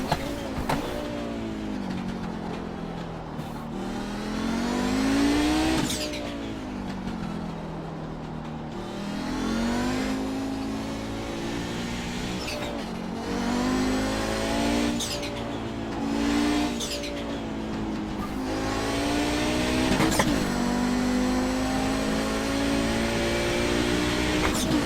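An Audi GTO race car engine at Summit Point in iRacing drones loudly and continuously, rising in pitch and dropping abruptly at each gear shift, with no voices.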